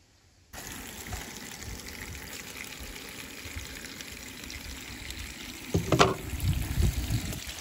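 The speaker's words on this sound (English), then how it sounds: "then we are going to top that up again with some rainwater." Rainwater being poured from a container into a pail packed halfway with comfrey leaves, a steady close trickle and splash that grows louder and sloshier near the end.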